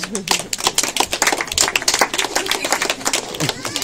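Audience applause for volunteers at a live demonstration, with rapid, dense clapping from a small crowd, loud and close, holding steadily throughout, with voices audible beneath it.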